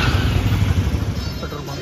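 Motorbikes start up and idle with a loud, steady rumble close by at the roadside near Visakhapatnam, the engine noise filling the short stretch with a rough, continuous throb.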